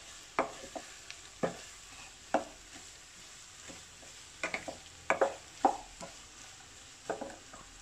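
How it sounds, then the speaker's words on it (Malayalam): About two large onions are sautéed in a pan for a prawn roast, with a soft background sizzle punctuated by distinct spatula scrapes and stirring knocks at irregular intervals, close and fairly quiet. "മിക്സ് ചെയ്ത് സവാള നമുക്ക് നന്നായി വഴറ്റിയെടുക്കാം."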